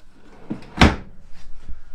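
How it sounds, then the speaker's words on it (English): Pull-out drawer on a drawer glide in the kitchen of a 2020 Keystone Passport SL 292BH travel trailer, giving a single short, close sliding thump with a quiet room around it. "you also have these slide-out pull-out drawers on a drawer glide in here as well"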